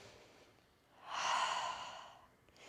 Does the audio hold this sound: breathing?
yes